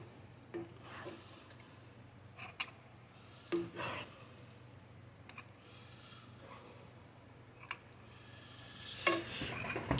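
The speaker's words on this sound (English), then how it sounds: "My soup is ready. Or I should say our soup is ready. I'm going to dish up some." Soup being ladled out into bowls, with sparse close clinks of a utensil against pot and dishware spread over a quiet background and a busier cluster of knocks near the end.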